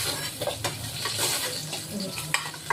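Fish frying in hot oil in a pan, with a loud, dense, continuous sizzle up close and a few faint utensil taps, and no talking.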